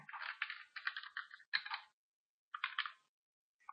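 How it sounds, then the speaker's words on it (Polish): Password keys tapped on a computer keyboard at a software login screen, heard as quick, close bursts of clicky keystrokes separated by short pauses. "W oknie logowania wpisujemy hasło."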